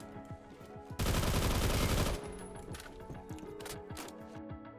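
Gunfire from a short-barrel, reduced-magazine BWC 9A in Roblox Phantom Forces: a loud dense burst of rapid automatic shots for about a second, set among other game sounds with music-like tones underneath.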